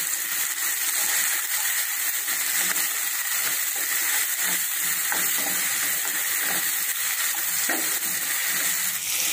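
Onions or vegetables sauté in oil in a pan for bitter gourd curry, a steady bright sizzle and crackle that stays loud and continuous throughout, close, with no talk.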